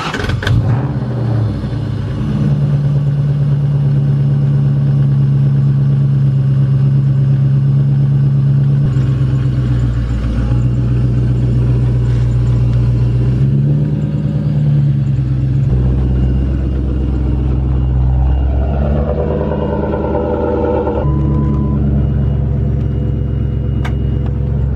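Mustang Cobra with a fault idles and rumbles loudly up close while being moved a short distance beside a sidewalk, its engine steady and deep with occasional small rises and dips in revs over about twenty-five seconds.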